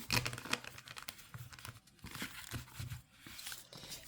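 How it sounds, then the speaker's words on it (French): A full tarot deck, major and minor cards together, is shuffled by hand in a run of crisp, papery riffling bursts with short pauses between them. Close and fairly quiet, with no voices. "on va venir mélanger l'intégralité des cartes, d'accord, du deck"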